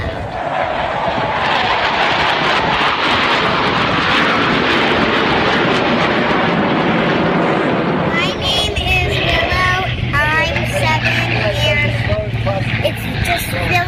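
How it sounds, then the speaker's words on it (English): Loud airplanes at an air show producing a broad, roaring engine wash that fills the first half, then gives way to a thinner, fluttering hum with a steady low drone. "it is so much fun to watch the airplanes, and they're so cool to watch, but they are really loud"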